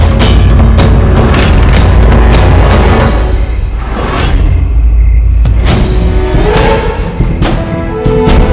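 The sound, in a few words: gunpowder explosion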